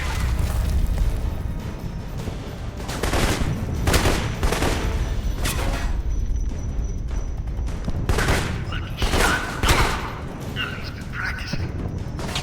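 Grenade blasts and gunfire in the video game Alpha Protocol: a steady stream of shots with several louder bursts spread across the stretch, and a voice talking over the combat.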